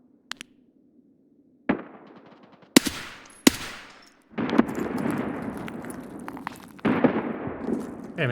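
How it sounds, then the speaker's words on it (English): Two grenades blast back to back in a video game, sharp explosive cracks followed by rumbling decay and scattered gunfire bursts, loud and close against a near-silent backdrop. "2 nades like that back to back"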